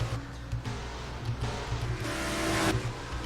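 Race cars in the NASCAR Racing 2003 sim during a Wawa Pro Series race at Capital City, engines droning and swelling as cars pass, with no voices.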